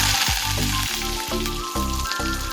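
Mustard seeds, cumin, garlic and curry leaves hit hot oil and sizzle loudly up close, with repeated spluttering bursts and scraping stirs in a rhythmic pattern, no voices.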